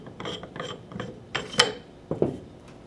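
Metal parts of a U.S. Army Carver One gun click, scrape and ratchet as the barrel is taken off, a run of close, sharp mechanical snaps and rubs at an uneven pace, with no talking.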